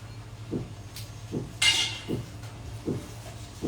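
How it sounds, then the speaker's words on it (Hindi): Construction work inside an apartment building gives off a steady series of muffled knocks, about one every second, with a brief clatter partway through. The knocking is low and moderately distant, heard alone with no talking. "ये देखिए आपको खट खट खट आवाज सुनाई दे रही है ना, ये मेरे बिल्डिंग में काम हो रहा है।"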